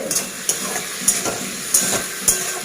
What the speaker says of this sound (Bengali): এদিকে পেঁয়াজ কলি ভাজা বসিয়ে দিয়েছি